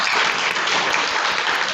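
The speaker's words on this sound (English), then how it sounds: "Can we have a big round of applause for the whole team first?" Audience at a primary school fungi song competition finale giving the team a big round of applause, dense steady clapping throughout.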